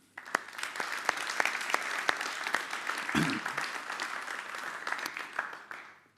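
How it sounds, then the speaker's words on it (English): An audience gives a warm round of applause at the close of a conference, steady dense clapping building quickly and holding for several seconds before tapering away. "I just want to give a big round of applause and thanks."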